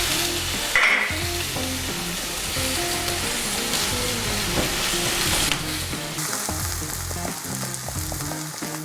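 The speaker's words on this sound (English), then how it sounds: "that is the time we're done with the frying" Fennel pieces fry and sizzle in a pan with nutmeg and paprika, a steady loud crackling hiss broken by stirring clatter and scraping close up.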